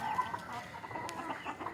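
Native country chickens cluck softly at a backyard poultry rearing spot, a faint, steady murmur of clucks at moderate distance with no one talking.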